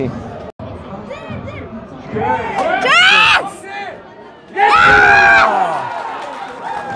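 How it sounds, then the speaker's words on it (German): Stadium crowd at a Yverdon Sport vs FC St. Gallen football match erupting twice in short loud bursts of cheering and shouting for a goal ruled offside, over a steady murmur of spectators. "Kurzer Jubel war."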